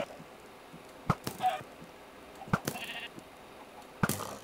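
A sheep bleats in the video game Minecraft, with short bleats mixed among three sharp hit-like clicks spaced about a second and a half apart, loud and close with no talking.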